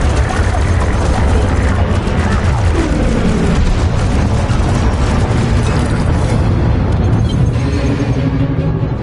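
Missiles launch and explode in a space combat video game: loud, dense rumbling booms and roaring blasts fill the whole stretch, with a sweeping whoosh partway through.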